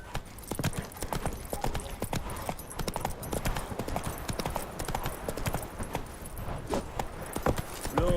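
The horse Roach gallops in The Witcher 3 video game, rapid rhythmic hoofbeats clopping steadily and close throughout, with faint game voices in the background.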